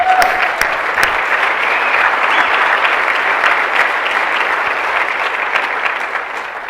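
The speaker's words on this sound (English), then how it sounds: "Let's give them a clap right now." Sustained applause from a crowd, steady and loud throughout with a few sharper individual claps near the start, fading slightly at the end.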